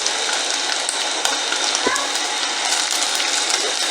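Garlic goes into onions frying in hot oil for a Kenyan mung bean (ndengu) stew, giving a loud, steady, close sizzle with a brief soft thud partway through.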